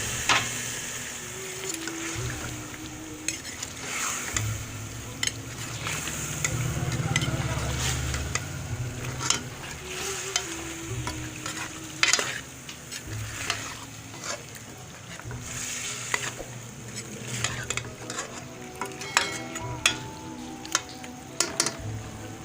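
Chicken frying and being stirred in a pot for village-style matar gosht with peas, a steady sizzle under scraping and clinking of a spoon against the pot, with occasional sharper knocks.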